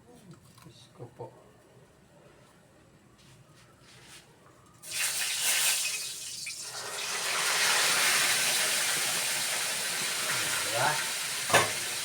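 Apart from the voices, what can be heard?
food frying and sizzling in hot cooking oil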